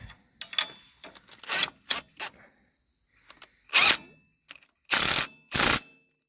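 A handheld impact wrench tightens hydraulic line fittings on a Ford Jubilee tractor, firing in several loud, separate bursts of about half a second each with brief pauses and small clicks between them.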